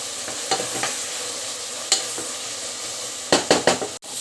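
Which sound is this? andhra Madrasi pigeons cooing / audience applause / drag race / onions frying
onions frying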